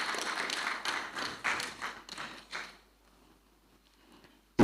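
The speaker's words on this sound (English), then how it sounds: "At least you can clap for her." Audience at a governorship debate clapping for nearly three seconds, a moderate scattered round of applause in a hall that fades out into near silence.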